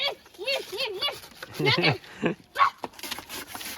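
A dog makes a few rising, whining yelps and a short bark amid excited voices nearby at a Holi celebration.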